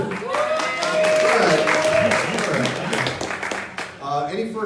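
Morning business meetup audience at a 1 Million Cups gathering in Daytona Beach giving applause, moderate clapping blended with cheering voices and a host talking over it.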